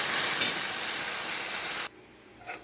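Sardines stirred in a hot pan give off a loud, steady sizzle and hiss that cuts off abruptly partway through, leaving faint scraping afterward.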